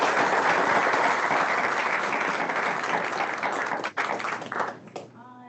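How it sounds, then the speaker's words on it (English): A crowd applauds steadily for several seconds, the clapping thinning out and tapering off near the end. "can we give one more round of applause to this amazing panel?"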